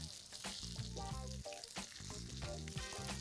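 Crumbed pomfret fish fries in a pan, a quiet, even sizzling hiss running beneath louder background music throughout.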